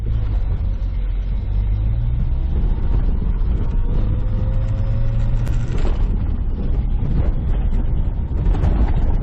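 A 1996 Ford Ranger pickup driving on a rough dirt road, with a loud, continuous engine rumble and road noise from inside the cab and engine tones shifting as it moves.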